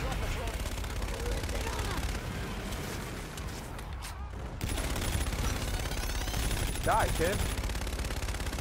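Rapid automatic gunfire in the Call of Duty: Infinite Warfare beta Defender mode, steady bursts running under excited talk with a brief lull in the middle.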